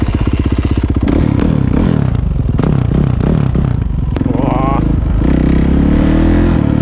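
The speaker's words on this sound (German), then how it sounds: "Lukas ist gerade mit Motorradfahren beschäftigt." A motorcycle rides close by, its engine pulsing and revving with rattly, scraping clatter from a rough course, loud and continuous throughout, with short bursts of acceleration.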